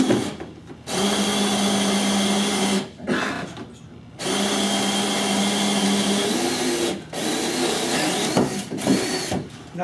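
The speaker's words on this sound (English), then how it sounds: "Now, if you notice, when he's drilling and he gets to the end, how he has to really push on it to get through" Loud whine of a quarter-inch drill driving an auger bit through wood, running in several sustained bursts with brief pauses between, the motor pitch straining and dipping under load.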